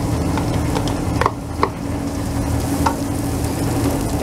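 Onion sizzling in olive oil in a pan as the base of a Portuguese fish sauce for horse mackerel, a loud, continuous close frying hiss with a few faint clicks of stirring.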